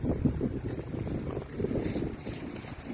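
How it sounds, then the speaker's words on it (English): Strong, blustery westerly winter wind on a night in Balga, Perth, Western Australia, after heavy rain, roars steadily as a loud, continuous rumble buffeting the microphone with gusty swells and no voices. "There's blustery strong winds coming in from the west."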